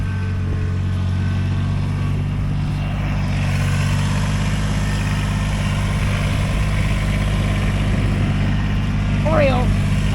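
A farm tractor idles at a goat barn with a steady, low, rumbling drone that runs throughout, while voices talk over it and a brief animal call rises near the end.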